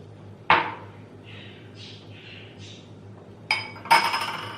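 Egg, a glass of yogurt and a glass of oil are whisked together in a bowl: a few sharp utensil clinks against the dish, soft stirring swishes in between, then two more bright knocks near the end.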